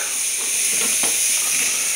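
A pump espresso coffee machine vents steam in a loud, steady hiss close up, the rushing sound holding throughout with slight fluttering bursts near the middle.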